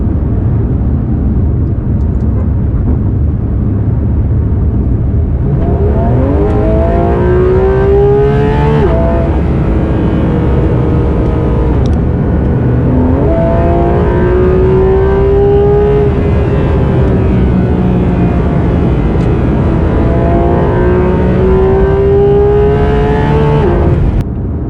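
A Porsche 911 GT3 RS is floored on Indian roads, its engine screaming loud and close as it climbs steeply through the revs, shifts, and surges again in repeated upward sweeps with no talking.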